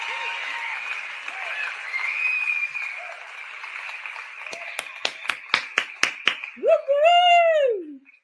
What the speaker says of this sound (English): Applause. Here it comes.